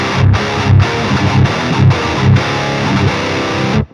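Aggressive distorted metal guitar through an Ampknob S_Zero 100 amp on the modern cab setting, loud chugging riffs broken by short rhythmic pauses, playing alone before stopping sharply at the end.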